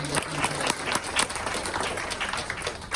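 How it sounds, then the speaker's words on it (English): Audience applause fills a town hall on transit, a steady wash of clapping from a crowd that holds at an even level throughout. "I want to give a round of applause for Jordan for all this work"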